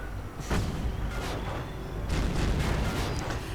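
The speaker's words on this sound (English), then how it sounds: "Firefly getting absolutely pelted with 75mm guns, armor-piercing rounds" 75mm tank guns pelt a Firefly tank with armor-piercing rounds in a WWII strategy game, heavy shots booming at irregular intervals, with a sharp report near the start and a cluster of blasts later.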